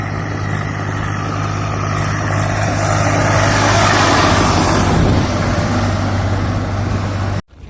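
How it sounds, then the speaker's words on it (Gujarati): A tractor hauling luggage passes close by during a long walk: a loud, steady engine drone with a strong low hum that swells as it nears, then cuts off abruptly at the end. "હવે સામાનનું ટ્રેક્ટર આવી ગયું છે"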